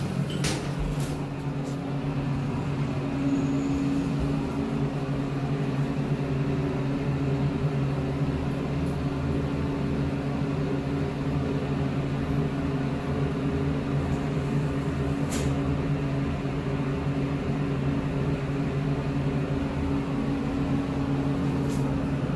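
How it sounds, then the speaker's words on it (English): Montgomery A Series hydraulic elevator running in a 1991 Main St building, a steady low hydraulic hum with a faint whine that continues throughout, broken by a couple of soft clicks. "I want to ride this elevator"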